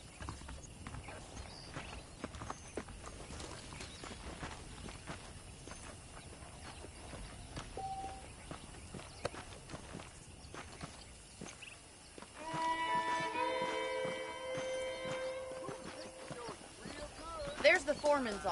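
Horse hooves clip-clopping at a steady walking pace amid quiet ambient sounds in Red Dead Redemption, with a brief burst of louder clattering activity partway through.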